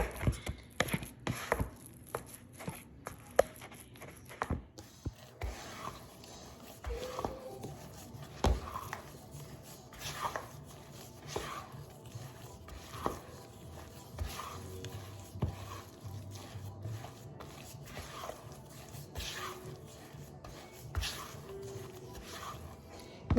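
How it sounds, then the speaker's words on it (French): Chocolate sponge cake batter is stirred in a bowl with a spoon or whisk, giving soft, irregular scraping and tapping strokes at close range and moderate loudness throughout. "Donc je viens mélanger jusqu'à ce que ma pâte soit homogène"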